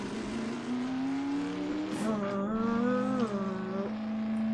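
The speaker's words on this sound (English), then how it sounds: "that engine sound is really pleasing" A car engine in Half-Life 2 drones close and loud, its pitch climbing as it revs up, then holding at a steady whine.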